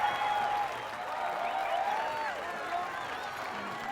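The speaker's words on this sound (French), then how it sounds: "Préparez-vous à accueillir avec un tonnerre d'applaudissements notre couple de chanteurs colombiens" Applause from an evening audience welcoming a pair of Colombian singers on stage, a soft, steady wash of clapping heard at a distance, with tonal music or sung notes faintly riding over it.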